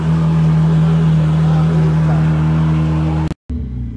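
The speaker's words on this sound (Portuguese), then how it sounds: "Droga, chegou o quarto carro." A car arriving at a house, its engine rumbling loudly and steadily up close with a low hum, then cutting off abruptly before a quieter idle returns.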